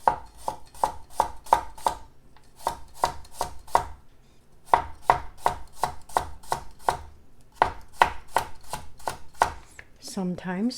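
A knife chops through a cucumber on a cutting board in steady, rapid bursts of crisp, close knocks, with short pauses between runs, ending in a brief scrape.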